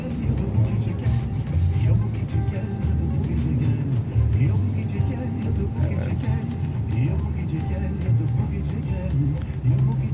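A petrol Fiat Egea accelerating in a test, the engine drone heard from inside the car as a steady low hum with rising and falling revs throughout.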